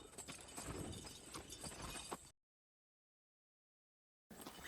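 Horses carrying riders who escort a group of slaves clip-clop along, irregular hoof beats over a noisy background, broken by a stretch of total silence before resuming briefly.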